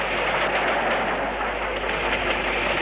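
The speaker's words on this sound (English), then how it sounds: "Soon the train passes under Caffin's Bridge and we are out into open country." Model railway train running on a classic prototype-style layout out into open country, a steady continuous rolling rumble with faint rhythmic clatter, fairly close and even throughout, no voices.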